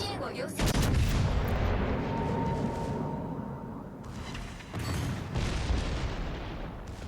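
Secondary battery guns fire in the naval combat game World of Warships Legends, producing repeated booming salvos over a rumbling battle background, with a voice speaking over the gunfire.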